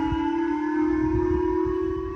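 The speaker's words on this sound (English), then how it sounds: "Japanese sirens sounding for the second time in 3 weeks" A Japanese civil defense siren holds a steady wailing, sustained tone during a North Korean ballistic missile launch, loud and continuous, with no voices.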